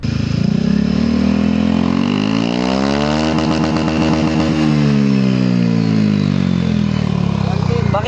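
A motorcycle engine on its center stand screams at high revs, bouncing against the rev limiter with a rapid stuttering pulse, loud and close, the pitch swooping up then dropping back.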